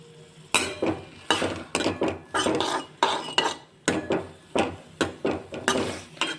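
Sliced onions sautéing in a pan over medium heat, heard as a regular series of scraping, clinking stirring strokes against the pan with a soft frying hiss underneath, fairly close and without talk.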